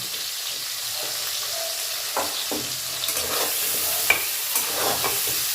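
Green chilies, ginger and garlic frying in a pan for paneer masala give off a loud, continuous hissing sizzle, with occasional scrapes and taps from stirring, close up.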